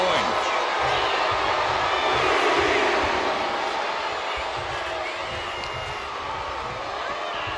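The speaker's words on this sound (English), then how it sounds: "And Dominic is getting the crowd going." A crowd in the WWE 2K25 wrestling game roars and cheers continuously. The sound swells in the middle and then eases slightly into a sustained arena din.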